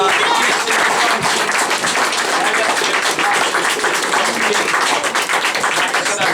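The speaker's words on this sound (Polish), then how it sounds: "Także brawa jeszcze raz tutaj dla..." An audience applauds at a judo club's season-summary gathering, loud, continuous clapping from many people with individual sharp claps showing through, steady throughout without a voice over it.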